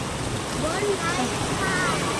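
Heavy rain pours down in a steady, dense hiss that fills the space, with faint voices under the downpour.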